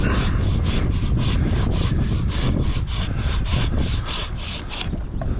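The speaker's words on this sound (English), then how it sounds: "this Zubat doesn't cut as fast as the Silky Sugoi, because it gets clogged up when you're making a larger cut" A Milwaukee Zubat pruning saw cuts through a thick branch in steady back-and-forth strokes, about fourteen rasping pulls at an even rhythm, loud and close with no talking.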